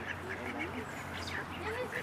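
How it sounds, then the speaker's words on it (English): Ducks quack repeatedly close by at the Moncton Zoo, with nasal calls scattered over a busy outdoor background and people faintly talking. "There's a pile of ducks here."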